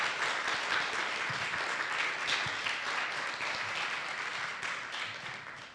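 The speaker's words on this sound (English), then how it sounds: "Can we give Mark another round of applause?" An audience at a Long Island migrants event claps for a speaker, with steady, moderately quiet applause filling the room and individual claps standing out briefly before it tapers off at the end.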